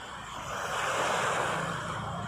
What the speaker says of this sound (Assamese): পুৰা সাগৰৰ নিচিনা ঢৌ আহি আছে